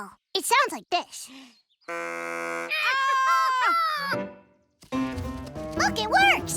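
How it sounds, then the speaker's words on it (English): Homemade deer call blown in a cartoon, producing a sustained buzzy honk with warbling pitch bends, loud and close, between bursts of squeaky character voices and chatter. "A deer call. It sounds like this."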